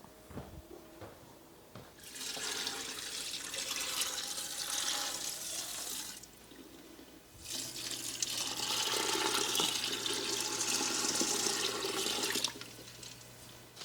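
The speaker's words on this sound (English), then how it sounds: "So I'm getting enough water in here to cover them by a couple of inches so we can get them boiling." Tap water runs into a pan of beans fitted with a draining insert, two sustained splashing streams of several seconds each separated by a pause, with a low hum starting under the second.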